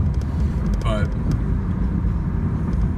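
A car drives steadily along with a constant low road and engine rumble that fills the whole stretch, with a faint brief chirp partway through.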